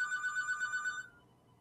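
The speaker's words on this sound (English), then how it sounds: "Never fails when I do a live stream that the phone rings." Telephone ringing indoors, an electronic trilling ring that warbles steadily for about a second and then cuts off, leaving quiet room tone.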